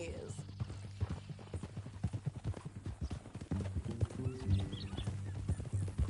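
Horse hooves clip-clop steadily on a trail in Red Dead Redemption 2, a close, even rhythmic patter under a low droning backdrop, while characters converse over it.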